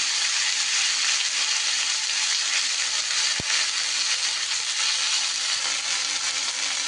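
Fenugreek greens dropped into hot oil tempered with asafoetida, giving a steady, bright sizzle that holds evenly throughout, with a single soft knock partway through.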